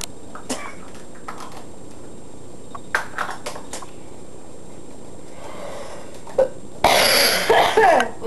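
A person coughs several times in an indoor room: scattered short coughs early on, then a loud, harsh burst of coughing near the end, with quiet pauses in between.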